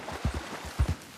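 Horse hooves clop on land in a video game, a quick run of distinct, close, fairly loud thuds spaced unevenly, some doubled, with no voices over them.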